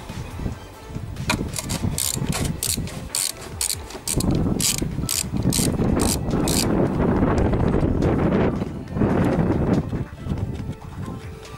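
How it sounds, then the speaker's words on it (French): Screwdriver fitted with an extension loosening a screw on an Audi A4 B8, a close run of sharp ratcheting clicks in bursts with pauses between turns. "Dévisser cette vis de quelques tours."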